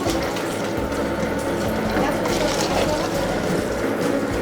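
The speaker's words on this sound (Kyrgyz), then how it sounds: "мясорубкадан өтөт." A meat grinder minces meat for shawarma in a Bishkek kitchen, giving a steady mechanical grinding and ratcheting churn that runs without pause, with faint background voices.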